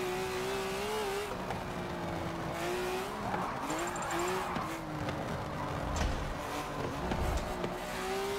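A BMW race car drifts in Forza 7, engine droning steadily while tires squeal and skid in long wavering bursts, loud and close throughout.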